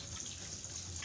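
A tap runs steadily into a sink as local lettuce is washed, a continuous close hiss of running water with no break.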